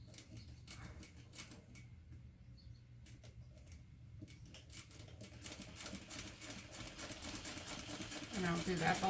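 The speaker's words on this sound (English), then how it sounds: "I'm going to sew from that line down the side and across the bottom to basically close." A home sewing machine runs top stitching along a baby project, a soft rapid needle chatter that starts quietly and grows louder and denser toward the end.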